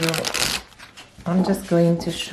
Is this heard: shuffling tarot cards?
yes